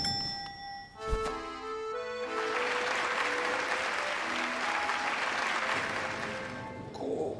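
A struck bell tone and ringing chime give way to a dense, steady wash of crowd applause for a show, sustained for several seconds before dropping off at the end.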